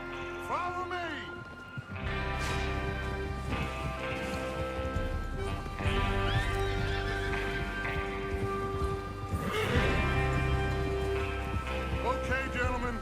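Horses in the Red Dead Redemption 2 video game give short whinnies and snorts over constant clip-clopping hooves, with game music and a speaking voice running underneath.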